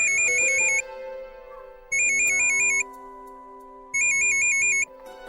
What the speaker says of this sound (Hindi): किसका फोन है? लो, वहीनी का फिर से फोन आ गया।